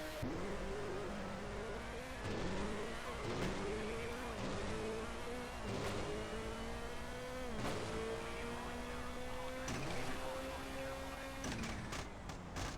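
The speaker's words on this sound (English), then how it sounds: "It sounds brutal, this car, though," A rally car engine in the racing game RalliSport Challenge revs and shifts repeatedly, rising whining tones climbing and dropping in cycles, steady and moderately loud, with a voice faintly in the background.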